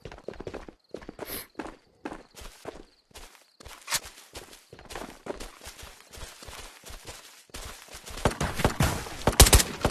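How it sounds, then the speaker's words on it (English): Scattered sharp video game gunshots crack in irregular bursts, some quick doubles, building into denser rapid fire toward the end, with no talking. "Your gunshots, ladies and gentlemen."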